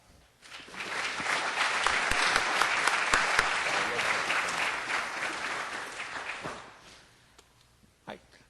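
Enthusiastic audience applause greets a panel at a political forum on special interests, swelling quickly into sustained clapping from a large crowd, then fading out over several seconds.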